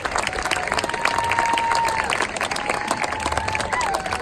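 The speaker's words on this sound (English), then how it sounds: "Let's give them a round of applause." An audience claps for middle school graduates at a class promotion ceremony, a dense steady round of applause with some crowd murmur and a faint tone running underneath.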